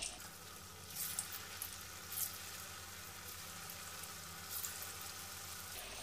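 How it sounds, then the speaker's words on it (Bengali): Chhana koftas sizzle in hot oil as they are dropped in one at a time over lowered gas heat, a steady close frying crackle with a few brief louder bursts. "এগুলোকে আমি কোপ্তাগুলোকে একটা একটা করে দিয়ে ভেজে দিচ্ছি"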